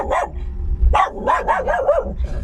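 A large dog barks close by, a quick run of four or five sharp barks following a brief yip, with steady low rumbling underneath.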